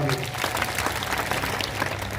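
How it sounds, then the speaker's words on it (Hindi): Crowd at a political rally in Jammu clapping steadily, a dense even patter of applause filling the whole moment, loud and close with no gaps. "मारो ताली"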